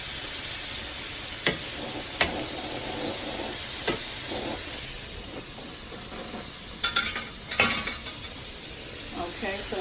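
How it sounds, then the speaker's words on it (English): French bread browning in a hot pan beside cooking shrimp for a Creole po' boy, giving a steady soft sizzle and hiss with a few sharp clicks and taps. "Just brown it, like give it a little toasting, the French bread."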